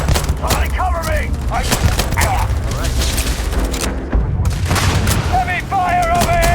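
Heavy gunfire from the video game Starfield rattles in continuous loud bursts and booms, with shouted voices and game sounds layered over the barrage throughout.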